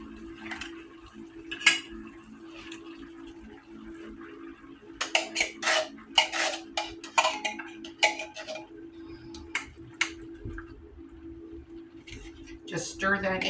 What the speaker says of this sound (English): Just stir that in a little bit.